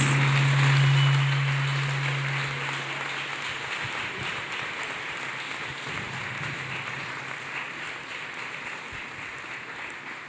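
A church congregation claps hands together, a dense, continuous patter of many hands that starts loud and eases slightly while staying steady throughout, with no talking.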